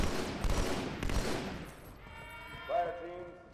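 Halo 2: Anniversary combat, with a rapid burst of plasma and gunfire shots that is loud for about two seconds, then fades into quieter game sounds with a brief warbling effect.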